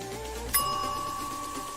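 A single bright bell ding rings out clearly and then sustains as a fading tone, alone over a quiet background.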